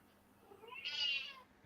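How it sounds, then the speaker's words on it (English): A pet kitten gives a single soft, drawn-out meow, faint and close, alone against a quiet background. "Oh, yeah, it was a kitten. Okay. Yeah, that's my kitty."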